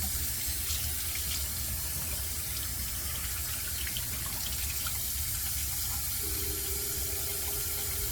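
Water runs steadily from a tap, wetting a razor blade at a sink during a shave, a constant close rushing hiss for the whole stretch with no talk.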